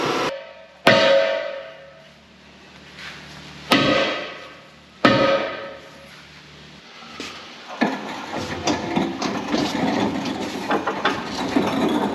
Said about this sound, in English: So we gotta use a sledgehammer to take it off.